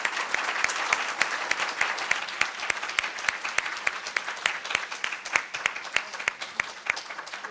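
Gathered listeners at a Sunday humanist meeting give sustained applause for the guest speaker, a continuous crackle of many clapping hands with distinct sharp claps standing out across the whole stretch.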